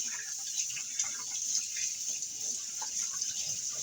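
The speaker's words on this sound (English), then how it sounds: "I'll wash my hands" Tap water running steadily into a sink during handwashing, a continuous soft hiss with faint splashes, quiet and close with no voices.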